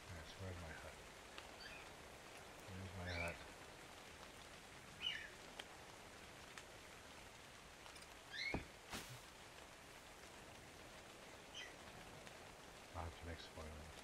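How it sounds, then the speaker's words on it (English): Rain falling in the survival video game ARK, a soft, steady hiss running through the whole stretch at low volume, with a few brief louder knocks and bursts on top. "I'm out here in the rain"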